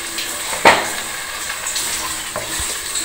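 Chicken frying in a pan with lemon juice added makes a continuous loud sizzle, broken by one sharp clatter early on and a couple of softer knocks later, with no voices.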